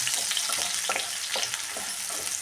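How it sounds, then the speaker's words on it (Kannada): Onions frying in a pan for egg garlic chitranna, a loud, dense sizzle with quick stirring scrapes running continuously without any talking. "ನೋಡಿ ಇವಾಗ ಚೆನ್ನಾಗಿ ಇದನ್ನು ಫ್ರೈ ಮಾಡ್ಕೊಳ್ಳೋಣ"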